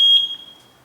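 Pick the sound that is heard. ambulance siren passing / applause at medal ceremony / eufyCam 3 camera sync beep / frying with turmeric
eufyCam 3 camera sync beep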